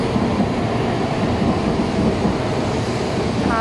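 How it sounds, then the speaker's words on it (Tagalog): A Japanese bullet train passing at speed near Nagoya, making a loud, steady rushing roar that holds at full strength for the whole stretch, with no voices. "Yan ang bullet train. Ayan kung gaano kabilis."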